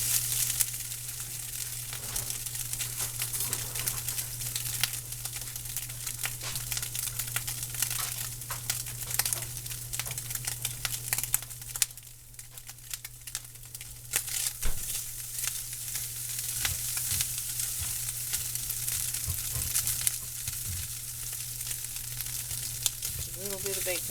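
Canned ham frying in a pan with a little bacon grease, a steady close crackling sizzle that runs throughout with brief dips.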